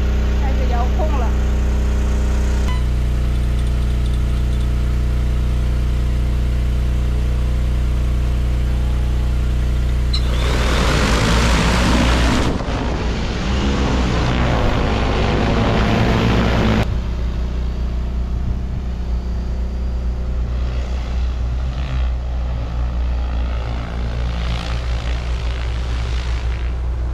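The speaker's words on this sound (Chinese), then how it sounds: "这飞机嗖下飞两圈，地药喷完了" An agricultural spraying drone carrying about 90 jin of liquid flies over crops spraying pesticide, its loud, steady motor whine droning nearby for the whole stretch, with a harsher burst partway through.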